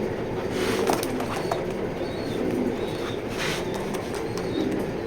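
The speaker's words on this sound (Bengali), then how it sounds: "প্রত্যেকটা কবুতর ভালো কবুতর ইয়াং কবুতর বাইশের কবুতর" Young racing pigeons in a loft give soft, low coos against a steady background of rustling and movement, with a few faint higher calls scattered through.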